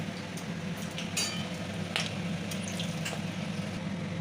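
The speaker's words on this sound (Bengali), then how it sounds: "দেবো 2টো তেজপাতা, আর দেবো গোটা গরম মশলা। এটাকে একটু নাড়িয়ে নেব।" Bay leaves and whole garam masala fry in a pan with a faint, steady sizzle, and occasional soft scrapes and clicks of stirring come through close by, with no voices.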